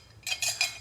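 A coffee mug used as a microwave tester is handled, with two or three bright clinks and scrapes of ceramic close by, brief and light.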